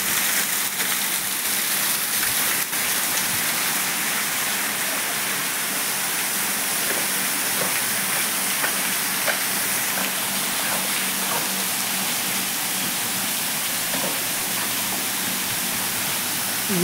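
A waterfall at Virodya pours continuously near a well, a dense, even hiss of falling water with scattered splashy droplet ticks, loud and unbroken throughout with no voices.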